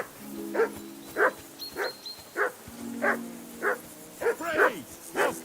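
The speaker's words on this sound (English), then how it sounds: "That dog of yours is barking like the devil." Dog barking in Kingdom Come: Deliverance 2, a run of sharp, evenly spaced barks close by with a few yips near the end, over a faint background hum and low tones.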